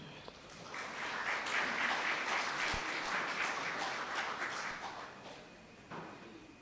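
An audience at a Caribbean climate change centre rebrand launch applauds a singer being introduced, a full, even round of clapping that rises quickly, sustains for several seconds, then fades out.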